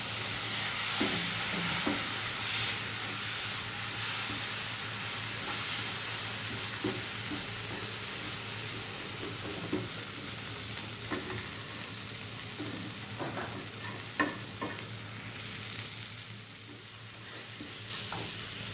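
Tomatoes sautéing with masala for a home-made mutton curry: a continuous sizzle with repeated scraping stirs and occasional sharper clinks of a spoon against the pan, close by, with no talking.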